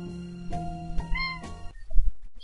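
A cat meows in the point-and-click adventure game Edna bricht aus: a short tonal mewing call with a rising, wavering pitch, heard alone over soft game background tones and then fading into quiet.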